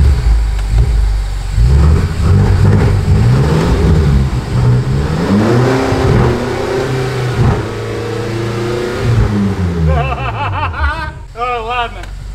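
A worn 2019 BMW X6M in Sport Plus mode revs hard, a loud, rising and falling mid-pitched engine roar that runs throughout, with people talking over it and brief whirring tones near the end.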